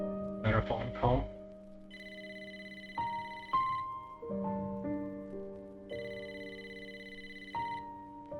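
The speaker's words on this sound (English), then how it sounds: "phone call." Phone ringing in the video game Wuthering Waves, a repeating electronic ring tone sounding in clear regular bursts after a short rustle, with no talk over it.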